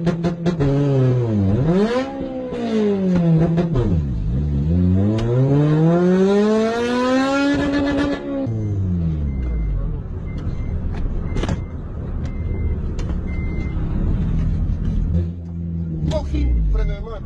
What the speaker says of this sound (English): This guy failed to release the handbrake properly during a drag race.